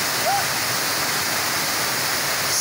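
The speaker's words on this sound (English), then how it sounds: "at the waterfalls of Mambo." The waterfalls of Mambo pour in a constant, full-bodied roar of falling water, loud and steady throughout with no breaks.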